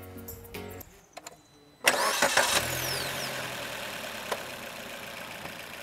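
A Maruti Suzuki Ignis hatchback with an AMT gearbox cranks and fires up after a few faint clicks, then settles into a quiet, steady idle close by, with one small knock partway through.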